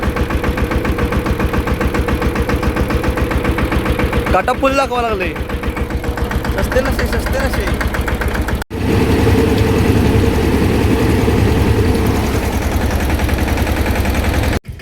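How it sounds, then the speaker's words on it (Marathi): A diesel tractor engine runs steadily close by, a loud low-pitched chugging throb that continues throughout with a brief cut partway, while someone talks over it. "मी ट्रॅक्टर चालू केलो"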